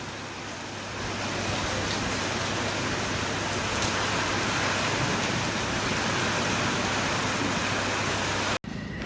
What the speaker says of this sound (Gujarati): બાકી વરસાદ જુઓ તમે